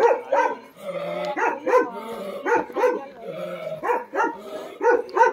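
Village dogs bark in a rapid, close series, with yips mixed among the loud repeated barks and no voices over them.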